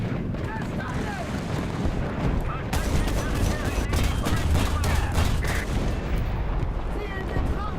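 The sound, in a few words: gunfire in a war video game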